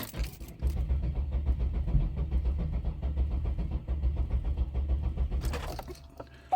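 A Buick 3800 V6 with coolant in its cylinders cranks steadily for about five seconds without catching, a loud, rhythmic starter churn ending in a brief clatter.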